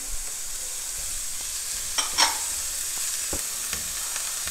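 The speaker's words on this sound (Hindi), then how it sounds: "हम इसको 2 मिनट के लिए तेज़ आंच पर पकाएंगे" Chopped carrot and capsicum frying over high heat for a chicken sandwich filling, a soft continuous sizzle with a couple of brief utensil clinks and scrapes, no speech.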